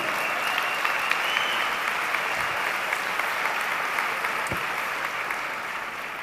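Audience applause fills a hall after a talk on joy in rest, steady and fairly loud clapping from a crowd that holds evenly for about six seconds.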